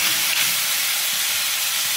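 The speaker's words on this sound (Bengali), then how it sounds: "তাই আমি অল্প করে ভেজে নিয়ে চিংড়ি মাছগুলোকে তুলে রাখবো।" Shrimp fry lightly in a hot pan for a chimri malai curry, giving a loud, steady, close sizzling hiss that runs on without a break.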